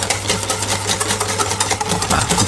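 An electric mixer whips a gelatin preparation for a bûche de Noël, producing a steady, close, buzzing whir that holds constant throughout.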